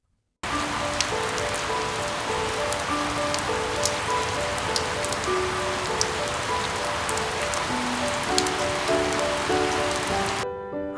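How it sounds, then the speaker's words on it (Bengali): Cartoon rain falling steadily in a continuous hiss with scattered drop taps, while soft melodic music plays underneath, starting abruptly and running evenly to the end. "আবার বৃষ্টিটা শুরু হলো"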